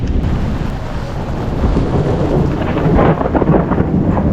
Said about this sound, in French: Je sais pas si vous entendez le tonnerre.